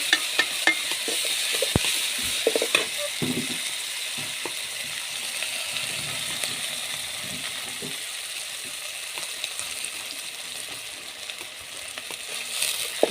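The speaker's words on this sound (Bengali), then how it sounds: "সবগুলো আমি তেলের মধ্যে দিয়ে দিচ্ছি। তেল গরম হয়ে গেছে, এখন নেড়ে ঝেড়ে দিচ্ছি।" Onion, chili, ginger and garlic stir in hot oil over a clay stove, a steady bright sizzle with scattered scraping and tapping strokes, close and continuous without talk.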